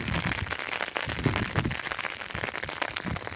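Heavy rain pours onto a waterlogged farm field, an unbroken close hiss of drops with crackly splashes throughout.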